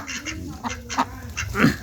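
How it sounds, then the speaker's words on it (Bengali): Ducks quack in a quick, close series of short honking calls, with no talking. "মানে ডিম পাড়ে হাঁস আর কি এগুলো"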